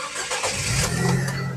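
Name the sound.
Nissan Grand Livina 1.5 car engine starting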